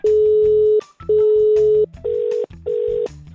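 A telephone line tone after a prank call is hung up: four long steady beeps with short gaps, the first two higher and the last two lower. The beeps are loud and close and sound through the earpiece, with no talk over them.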